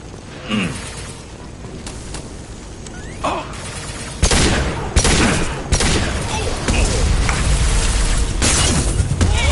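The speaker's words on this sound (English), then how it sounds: "Firing an impact shot!" Impact shot gunfire at a burning refinery in Mass Effect 2, scattered distant shots early, then a loud close blast and a steady roar of heavy weapon fire and rumbling explosions.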